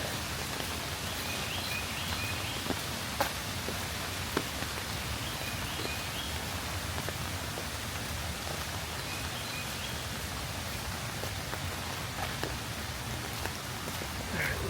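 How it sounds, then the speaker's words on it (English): Rain falling steadily in a wooded park near Rock Creek with a bridge and waterfalls, a soft, even hiss with occasional faint drop ticks and no talking. "Has it picked up raining? I think it has."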